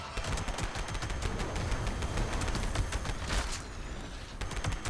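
Rapid, loud shotgun blasts from a Quad Pepper Shaker in Fallout 76 fire in quick repeated bursts against Scorched enemies, with a brief lull near the end before more shots.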